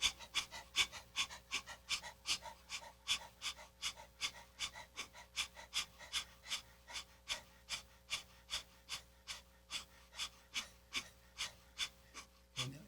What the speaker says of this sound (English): stick our tongues out and like breathe heavily, like panting, like a dog